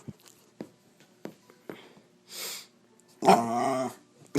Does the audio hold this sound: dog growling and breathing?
yes